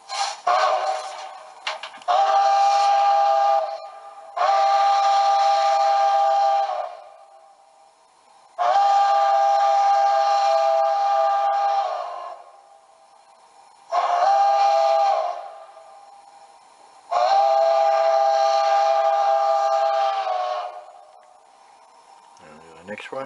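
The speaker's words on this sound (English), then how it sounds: "Here's the Denver and Rio Grande 5 chime." A Denver and Rio Grande five-chime steam whistle played as a DCC sound sample for an On3 K36 model locomotive, heard as five long, loud, steady chords with brief pauses between them and no talk.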